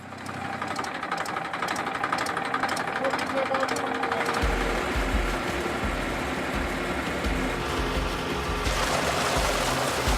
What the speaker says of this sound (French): il fonctionne, entraîné par un tracteur